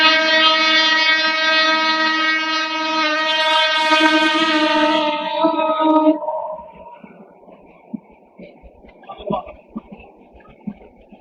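A train passes close by, first sounding a loud, sustained horn blast for about six seconds, then rumbling and clattering steadily as its cars roll past.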